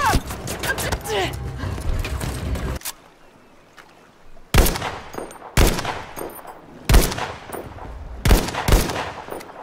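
Weapons fire in a World War II shooter game beta, including a Czechoslovak-made gun. A noisy burst of rapid shooting gives way to a quiet pause, then five loud, sharp single shots ring out roughly a second apart, each with a short decaying echo.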